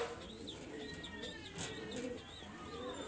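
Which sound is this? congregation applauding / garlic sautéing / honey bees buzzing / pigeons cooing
pigeons cooing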